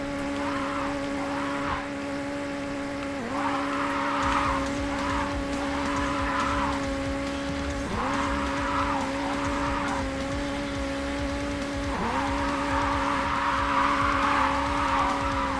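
Drifting car in the racing game JDM screeches through a long tire squeal over a steady engine drone, with the squeal swelling in repeated bursts as the slide is held and recovered.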